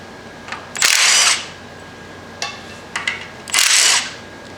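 A small Milwaukee 1/2 inch cordless power tool whirs in two strong bursts of roughly half a second each, with short faint clicks and triggers in between, close and loud while working during lawn tractor maintenance.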